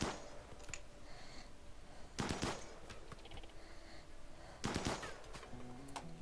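Gunfire in RimWorld sounds as two distinct bursts of rapid shots about two seconds apart, over a steady low background hum at modest volume.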